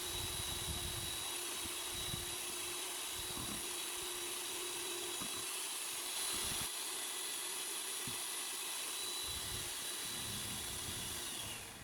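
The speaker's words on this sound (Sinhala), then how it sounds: "වැනිලා ටික දාලා මම ආයෙත් හොඳට බීට් කරගන්නවා" An electric beater whirs steadily through eggs and vanilla for a sponge cake, a constant high motor hum with soft irregular thumps as the beaters knock the bowl, fading slightly at the end.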